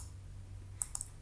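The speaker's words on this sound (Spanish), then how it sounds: "Si yo hago un clic" Two or three quick, faint mouse clicks in close succession against a quiet room hum, made while working in Scratch on a computer.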